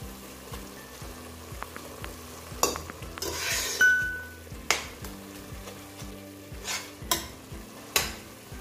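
Minced meat fries in a pan and is stirred, giving a steady close sizzle under repeated scraping and clinking of a utensil against the pan.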